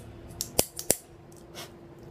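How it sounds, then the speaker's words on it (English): A V cutter snips the cap of a cigar with a couple of crisp, sharp clicks close up, followed by a softer scrape in an otherwise quiet room. "I'm going to use a V cutter because I really like the V cut."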